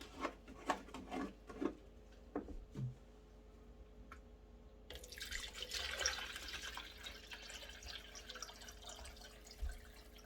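Distilled water is measured out for homemade body lotion: a few light clicks and taps of containers, then a steady splashing pour that runs for several seconds in a quiet room.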